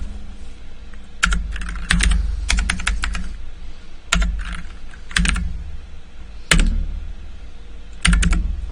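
Computer keyboard keys clatter in quick bursts while text is entered in a CAD drafting exercise, with short runs of typing separated by pauses and sharper single key strikes standing out, close and clear.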